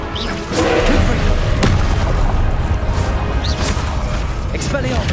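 Confringo blasting-spell explosions from Hogwarts Legacy, loud booming bursts and crashes layered with spell effects over sustained game noise, with shouted spell incantations in between.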